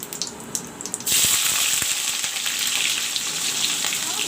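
Chopped onion and slit green chilies with jeera hit hot oil and burst into a loud, steady sizzle after a second of quieter kitchen noise, the frying hiss continuing close and unbroken.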